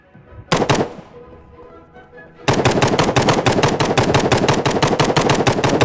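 Rapid automatic gunfire in an online hide-and-seek style shooting game: a short loud burst early on, a quieter pause, then a long sustained stream of fast, evenly spaced shots to the end, with no talking.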